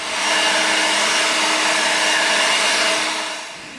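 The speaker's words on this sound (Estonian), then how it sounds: "tänavate puhastamine lehepuhuriga on umbes sama hea kui oma kodupõrandaid puhastada fööniga" A leaf blower cleaning a street gives off a loud, steady motorized roar with a harsh airy hiss, holding constant before easing slightly at the end, with no voices.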